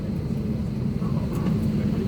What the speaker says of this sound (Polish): Samolot. Lecimy.